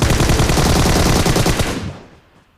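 Rapid automatic gunfire in a squad-based battle royale video game, a loud dense burst of repeated shots lasting almost two seconds before it fades out.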